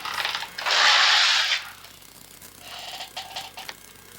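A Passap knitting machine knits a few rows: a loud, dense mechanical rattling rush of the carriage lasting about a second, then a quieter stretch of lighter clicking and ratcheting pulses.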